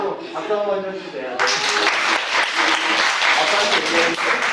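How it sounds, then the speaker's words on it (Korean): Church congregation applause during a Sunday worship service, breaking out suddenly after a voice speaks and continuing loud and close to the end, with a voice briefly heard over the clapping. "박수 한번 쳐주세요"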